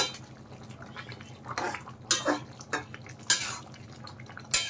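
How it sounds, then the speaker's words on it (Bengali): A spoon scrapes and clinks against a pan while stirring Bengali fish curry with cauliflower and potato after garam masala goes in. A few distinct metallic strokes rise over a low bubbling simmer. "গরম মশলা দেওয়ার পরে আরেকটু নেড়ে দেব"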